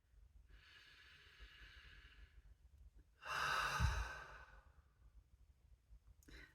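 Slow, deep human breathing in a quiet room: a long soft inhale, a pause, then a fuller, louder exhale, close and alone with no talk.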